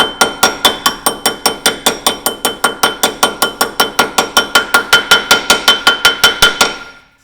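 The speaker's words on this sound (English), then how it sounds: "I usually just use a brass hammer and tap them in" A brass hammer taps a steel knuckle race into its bore on an 80 Series Land Cruiser steering knuckle: about thirty sharp, ringing metallic strikes in a steady, quick rhythm, close and loud, stopping abruptly at the end.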